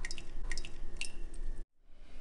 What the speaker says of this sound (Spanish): Y ya nada más le drenamos bien el agua.